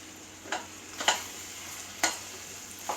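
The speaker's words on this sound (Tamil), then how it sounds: "இப்போ அதையும் நல்லா எல்லாத்தோடு சேர்த்து நல்லா வதக்குறோம்." Tomato gravy seasoned with chili powder sautés quietly in a pan under a soft steady sizzle, with several distinct scrapes of a spoon stirring it at irregular intervals.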